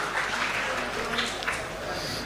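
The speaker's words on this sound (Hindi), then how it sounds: "ज़ोरदार तालियों से उनका इस्तकबाल करें" Audience at a mushaira poetry gathering in Patna, held for a hotel inauguration, applauds to welcome a poet: a dense, steady wash of clapping throughout, with faint voices in the crowd.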